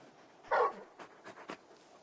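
A big dog companion in the video game Final Fantasy XVI whimpers and yips in short, close, soft vocal bursts, with one louder whine followed by a few quieter whimpers.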